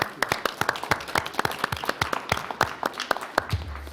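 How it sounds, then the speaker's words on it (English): Scattered applause at a county board of commissioners meeting, a small group clapping in distinct, uneven claps across the whole stretch, moderately close and without talk. "Big round of applause."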